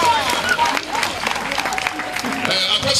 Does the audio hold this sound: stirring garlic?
no